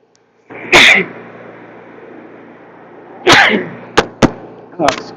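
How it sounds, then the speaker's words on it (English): Two loud sneezes, one early and one midway, followed by a few sharp bursts, over a steady lawn mower drone in the background. "Had a sneeze attack there with no warning."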